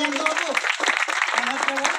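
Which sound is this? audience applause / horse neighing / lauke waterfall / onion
audience applause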